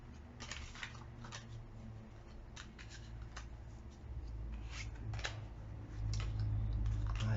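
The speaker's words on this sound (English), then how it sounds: "I have a strange way of shuffling" Tarot cards being shuffled in a riffling, papery flutter of repeated bursts, close and fairly quiet over a steady low hum, with no talking.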